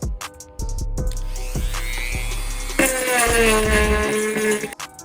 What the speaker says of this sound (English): I used a sanding wheel on a Dremel to grind down all of the supports on the inside